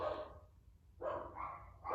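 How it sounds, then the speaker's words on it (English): Dogs bark indoors at home in two close bursts of excited barking, loud and near, with a short lull between them. "the dogs are going crazy."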